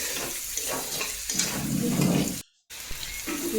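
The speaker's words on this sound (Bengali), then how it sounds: "ডিমটা আলুর সাথে খুব ভালো করে নাড়িয়ে চাড়িয়ে একদম লাল লাল করে ভালো করে ভেজে নেবো।" Egg and potato sizzle and crackle in a hot pan while being stirred, with continuous frying noise and scraping and a short silent break before the sizzling resumes.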